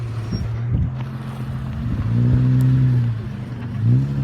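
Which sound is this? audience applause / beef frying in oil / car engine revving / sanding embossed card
car engine revving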